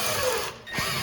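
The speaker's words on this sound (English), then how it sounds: "There is 1 screw that we need to undo." A power tool whirs briefly at close range, dips, then starts again while undoing the single screw that holds the cooling fan motor in a Whirlpool oven being repaired for an F8E0 error code.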